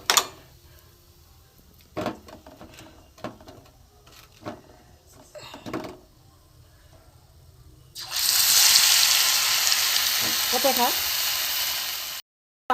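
Radish chops fry in hot oil: after a stretch of scattered light clicks and taps, a loud, steady sizzling hiss begins partway through and continues almost to the end.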